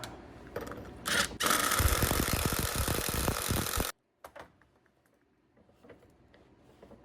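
A cutoff nut is driven down onto a Ford 9-inch yoke with a power tool, giving a loud continuous rattling buzz for a few seconds that cuts off abruptly, followed by faint clicks and handling noises.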